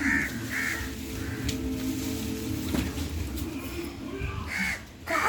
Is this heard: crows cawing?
yes